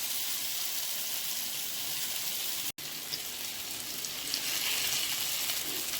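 Vanjaram fish fries on a tawa in hot oil over a low flame, making a loud, steady, crackling sizzle that runs throughout with one split-second dropout near the middle.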